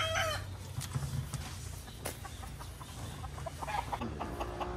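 A high action hatch gamefowl rooster and hens in a 3x3 breeding pen cluck and crow at moderate distance, scattered calls over a low background hum, with no one talking.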